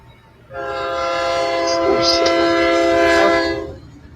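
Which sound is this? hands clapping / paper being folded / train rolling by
train rolling by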